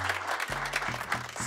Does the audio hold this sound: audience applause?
yes